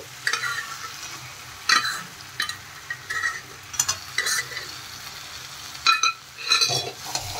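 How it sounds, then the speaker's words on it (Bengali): Boiled urad dal with tomato, onion and spices is stirred in a pan, giving repeated soft scrapes and clinks of a spoon amid a low sizzle. "একটু নেড়ে দিচ্ছি মশলার সাথে"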